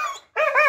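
A dog howls excitedly in greeting, two short whining howl bursts with a brief pause between, close and loud.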